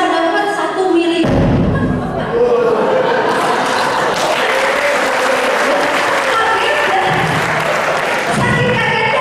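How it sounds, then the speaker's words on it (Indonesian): An audience breaks into loud, sustained applause, a dense crowd of clapping hands that swells and carries on, with occasional heavier thumps and murmurs mixed in. "Tepuk tangan lagi ya."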